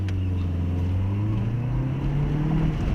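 A Fiat Tipo 1.4 car hums along on a test drive after a gearbox overhaul, the engine drone steady and slowly rising in pitch under constant road noise, heard from inside the cabin.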